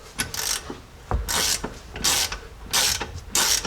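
A ratchet tightens the rear shock bolts on a Jeep Cherokee XJ, giving four close, loud bursts of rapid metallic clicking separated by short pauses, with no talking.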